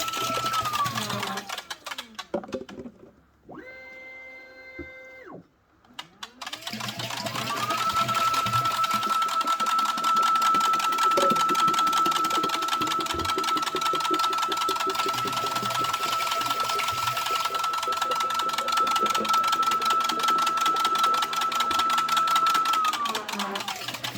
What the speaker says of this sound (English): as the machine's down at the other end working on those bottles